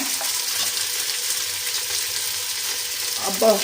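Ghee sizzles in a pan while broken wheat is fried for payasa, a steady soft crackling hiss at moderate level, ending with a brief clink of a utensil.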